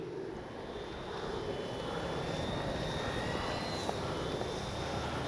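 An RC Avios Twin Otter model plane flies in strong wind, its steady engine drone and faint propeller whine carried under constant gusting wind noise throughout, with no talking.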